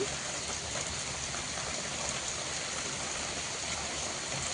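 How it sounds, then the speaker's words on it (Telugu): Dense, steady rainfall hisses evenly throughout, a constant wash of heavy rain with no pauses or voices. "రాత్రి నుంచి వర్షమే వర్షం"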